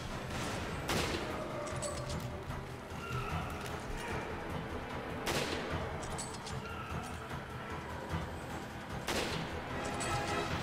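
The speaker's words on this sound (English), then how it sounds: "I'm shooting him in the head." Gunfire at an enemy in the video game Resident Evil 5, heard as sharp repeated shots at intervals over a dense, busy game soundscape with faint voices.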